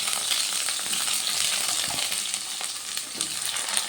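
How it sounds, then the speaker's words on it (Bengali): Brinjal pieces fry in a hot pan with a steady, dense sizzle and faint stirring scrapes, close and continuous, with no voices. "সব বেগুনগুলো দিয়ে বেগুনগুলো একটু প্রথমে ভাজা ভাজা করে নেব"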